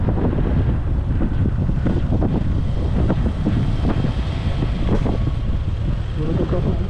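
A boat motor drones steadily near Bali Bridge, the engine rumble mixed with heavy wind buffeting the microphone and splashing water, continuous and loud throughout.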